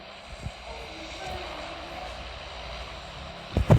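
An airplane engine in PUBG Mobile gives a steady, moderately loud droning hum throughout, with a few soft thumps and a louder knock near the end.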